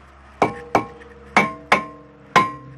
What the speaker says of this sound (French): Donc pour ça j'utilise un petit marteau type maillet.